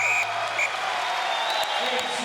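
A crowd roars and claps at a freestyle wrestling final at 70 kg as Frank Chamizo of Italy wins gold over J. Green of the USA, a loud dense wash of noise that continues steadily throughout.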